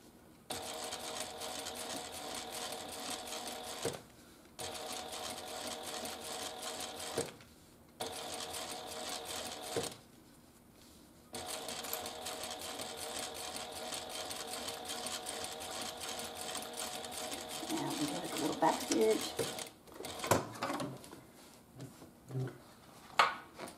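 A sewing machine top stitching a wristlet runs in long steady whirring stretches, pausing briefly a few times, ending with clicks and handling sounds nearby.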